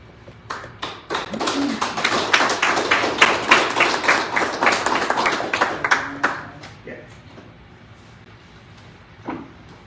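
Applause at a police academy graduation ceremony, a burst of many hands clapping that swells for several seconds, then fades out to near quiet with a last stray sound.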